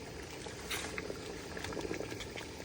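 Water boiling in a cooking pot on the stove before pork goes in, a soft steady bubbling and hiss with small pops, faint and continuous with no voices.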